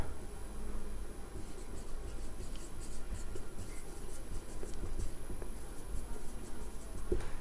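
A pen scratches steadily across a paper maths worksheet on rational numbers, producing continuous close, soft scribbling strokes with no talk over them.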